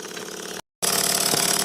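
A Cotswold Heritage Cirrus model beam engine runs on steam from a Stuart 501 boiler, making a close, steady mechanical chuffing with a fast regular pulse, broken by a brief moment of total silence.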